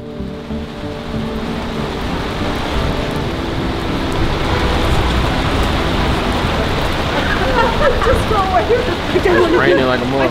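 Rain falls steadily outdoors as a dense, continuous hiss that fills the whole stretch, with faint tonal sounds drifting in near the end.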